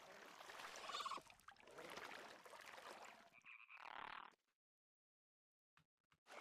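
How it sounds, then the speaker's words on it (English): A frog croaks in the video game The Isle beside a watering hole, a few loud croaks over trickling water, followed by near silence with a few faint clicks. "Heard a frog."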